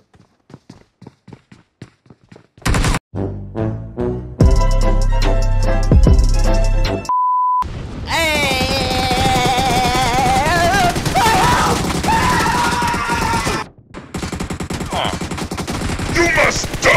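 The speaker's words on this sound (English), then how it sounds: "Heavy machine gun." Heavy machine gun effect from an ArcaneOS Jinx pinball machine: a few sparse hits, then loud rapid bursts of gunfire layered over busy game music and voice callouts that run nearly continuously.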